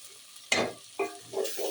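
Polao rice hits oil in a hot pot and sizzles in three short bursts, close and moderately loud, each loud onset easing into a softer hiss.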